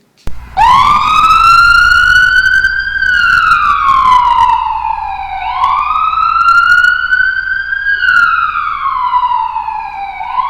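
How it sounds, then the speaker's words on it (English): A wailing emergency siren rises and falls in long, loud sweeps, staying close and steady throughout with a low rumble beneath. "The scream of the siren grew more distant as the vehicle left the area."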